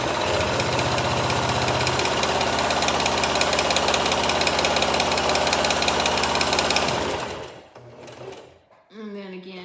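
A sewing machine stitches fabric for a simple pillowcase cover. It runs with a fast, steady mechanical chatter close by for about seven seconds, then stops, and a voice follows.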